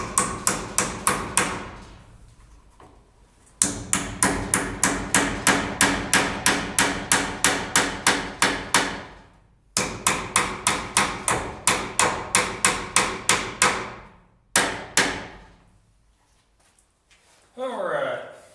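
A hammer strikes repeatedly and loudly in fast, even bursts of blows, broken by short pauses between sets, ending with a brief rustle.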